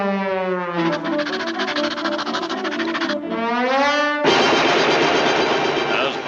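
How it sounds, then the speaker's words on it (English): A cartoon long-range rapid-fire coast defense gun shooting, heard as a rapid tonal rattling burst that warbles and pulses, then gives way to a loud, noisy roar of continuous fire. "Here we see the latest long-range rapid-fire coast defense gun in action, shooting 10 million shells a second."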